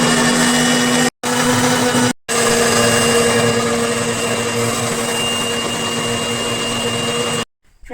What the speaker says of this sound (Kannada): ಇವಾಗ ನಾನು ಗ್ರೈಂಡ್ ಮಾಡ್ಕೋತೀನಿ